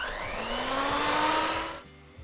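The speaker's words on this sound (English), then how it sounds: "using a hand mixer, I'm gonna cream together the butter and sugar" A hand mixer creams butter and sugar in a bowl, its motor whirring loud and close with a slowly rising whine for under two seconds before cutting off.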